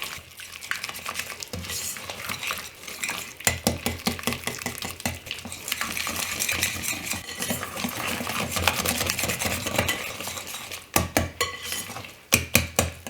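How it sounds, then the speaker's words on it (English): A hand whisk beats an egg into gluten-free chocolate cookie batter in a bowl, giving a rhythmic clatter and scraping against the sides. The sound is close and stops and restarts in short bursts. "it's easier with a whisk. Add in your egg, and just mix this until it's really combined"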